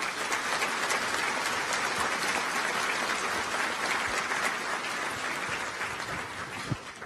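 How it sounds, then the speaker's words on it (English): An audience at a law enforcement awards ceremony gives the recruits a round of applause, a steady wash of many hands clapping that holds evenly for several seconds with no talking. "Please give them a round of applause, folks."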